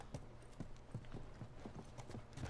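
Horse hooves clip-clop in a steady walking rhythm in The Last of Us Remastered, close and distinct over a low game-ambience hum, with no talking.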